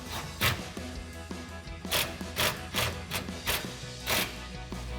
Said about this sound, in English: now we can tighten this down using our 10mm socket